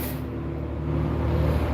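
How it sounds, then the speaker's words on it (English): A loud truck passes nearby on a street beside an outdoor patio, a steady low engine rumble with a hissing air-brake quality that swells slightly louder toward the end. "Oh, loud truck."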